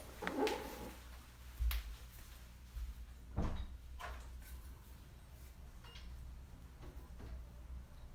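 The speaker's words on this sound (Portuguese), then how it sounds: "Eu vou pedir licença só para fechar uma porta aqui, para evitar barulho aqui para nós" An indoor door is shut, with a few faint knocks and a soft thud and click standing out over a low steady hum, with no talking.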